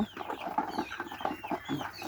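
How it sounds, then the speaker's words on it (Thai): Laying hens cluck softly and steadily at evening feeding on a home farm, several birds making short overlapping calls close by, with no talking. "มันนี่ให้ให้อาหารไก่เนาะช่วงเย็น"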